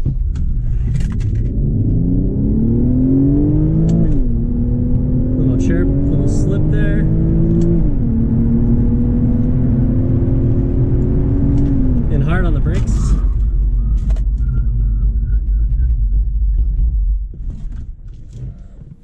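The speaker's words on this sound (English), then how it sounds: "Most of the time this car always launches dead on full thrust." An Infiniti Q50S Hybrid's engine roars loudly as it launches at full throttle, revs climbing through several gear changes before settling into a steady rumble that fades near the end.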